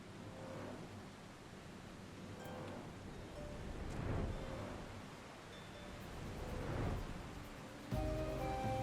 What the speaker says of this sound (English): Man, it's coming down hard, huh? Raining.